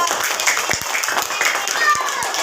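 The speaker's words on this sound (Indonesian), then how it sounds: "Tepuk tangan untuk kelompok 3." Classroom applause for a student group, a short run of scattered hand claps at close range, mixed with a faint murmur of voices.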